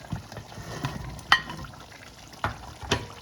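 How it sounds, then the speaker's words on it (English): Potato chunks stirred into a drying lamb curry in a pan, with a few distinct scraping clatters of the spoon over a low, soft sizzle. "Give it a good stir."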